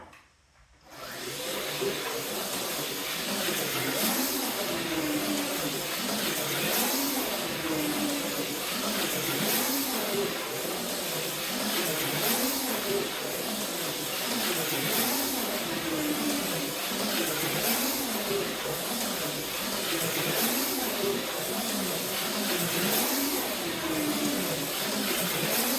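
A Wizard Fusion model car runs laps on a tabletop slot track, its small electric motor producing a steady high whine and rattle that rises and falls rhythmically with each lap, continuous and close throughout.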